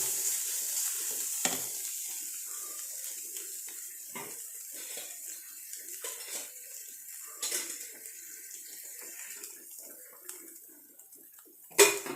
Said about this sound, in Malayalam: ഇനി മീൻ വറുത്തെടുത്താൽ മതി